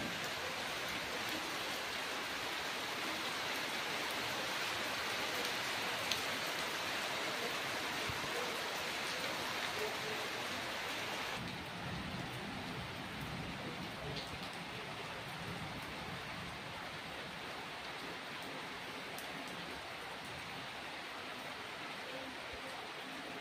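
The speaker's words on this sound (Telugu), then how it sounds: "ఇంక వర్షం పడుతుంది బయట" Rain falls steadily outside a house, a constant soft hiss that eases slightly partway through, with no voices.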